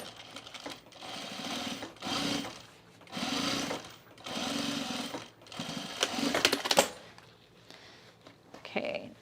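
A sewing machine top-stitches the edge of jean shorts in about five loud, steady whirring runs with short pauses between them, plus a few clicks and handling clatter near the end.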